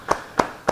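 Three separate claps spaced evenly over under a second from a church congregation at a Bible study gathering, close and crisp with no voices.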